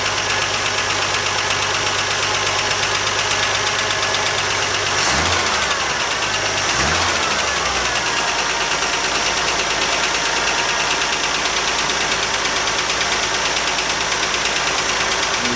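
A rough, steady Jeep CJ-5 engine idle with a low, uneven knocking rumble and possible exhaust leak running throughout, briefly disturbed by a couple of shifts in tone near the start.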